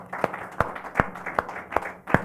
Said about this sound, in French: On va l'applaudir encore très très fort.